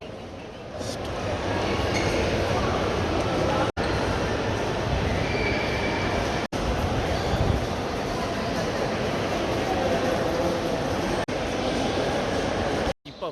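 A Sentosa Express monorail train at a level 3 station in Singapore gives a loud, steady rumble that fills the whole stretch, with only brief dips.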